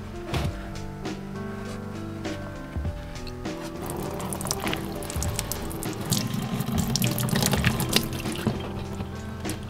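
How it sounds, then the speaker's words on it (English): Coolant pours steadily from a car radiator's plastic wing-nut drain into a bucket, a continuous splashing liquid stream that grows slightly fuller and louder toward the end, with no talking. "place the bucket underneath it to catch all the coolant that's going to come out"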